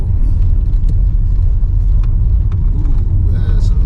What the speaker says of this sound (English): Over the cattle grid and down the hill.